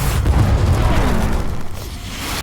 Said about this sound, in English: there's a sudden explosion